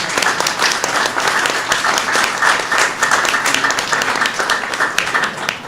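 Sustained applause from an audience at an AAPI Heritage Month reception where the Vice President is speaking, dense steady clapping that fills the room at close range with no talk over it.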